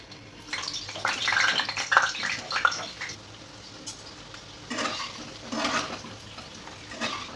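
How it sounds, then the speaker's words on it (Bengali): Potatoes frying in hot oil in a kadai, a steady bubbling sizzle that swells in two louder bursts with clinks of utensils, close by and heard alone. "তেল গরম হয়ে গেছে, এবার আমি আলুগুলো ভেজে নেব।"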